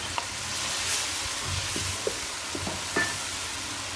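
Okra tipped into a hot pan for masala bhindi, a steady broad sizzle of frying with a few soft stirring scrapes and clinks, close and continuous.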